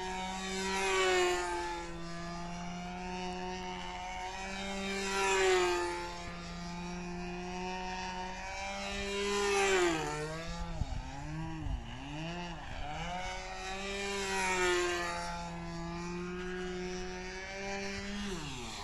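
A model Thunderbird aircraft flies overhead, its engine whining steadily and rising and falling in pitch as it passes and banks repeatedly, with a dip and wobble midway, moderately loud and continuous with no talking.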